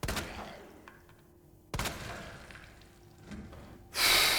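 Gunfire in Resident Evil 2, a few sharp separate shots with quiet gaps between them, followed by a louder burst at the end, heard close amid game ambience.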